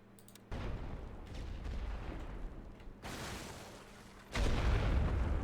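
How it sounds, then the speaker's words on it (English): A mine detonates in the trench warfare game The Great War: Western Front, a broad low rumbling blast rising over steady artillery fire, with a second heavier surge of explosion noise near the end. "Okay, so we blew the mine."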